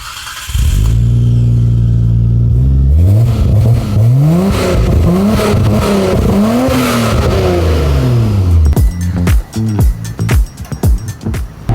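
A Japanese sports car from about 25 years ago revving hard through the gears, with loud rising engine pitch, a shift, more climbing revs, then the engine dropping back with crackling, uneven bursts at the end.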